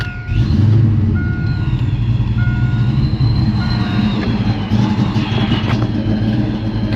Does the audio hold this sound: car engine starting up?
yes